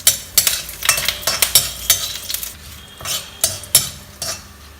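Curry leaves and chilies frying in a pan while a spoon stirs and scrapes, the sharp metallic clinks and scrapes repeating irregularly over a soft sizzle.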